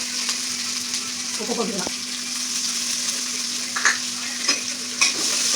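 Cumin, dried red chillies and onion sizzle and are stirred in a hot pan, a steady frying hiss with a brief clatter of stirring. A voice speaks briefly over it.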